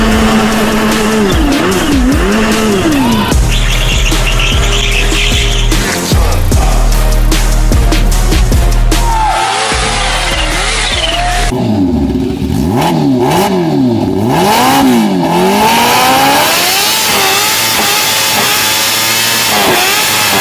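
A supercharged Kawasaki H2 motorcycle revs hard over a sustained, loud engine drone, with rising and falling pitch sweeps suggesting repeated throttle blips and acceleration, mixed with a dense backing bed throughout.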